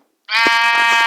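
A single sheep bleats loudly and steadily for about a second, close up, after a brief moment of quiet.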